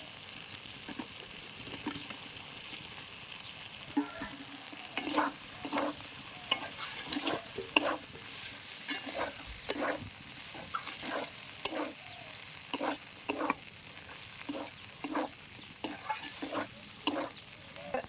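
Paneer cubes added to a spiced potato masala for shahi paneer sizzle softly in the pan while a spoon stirs in steady, repeated scraping strokes, close and alone with no talking.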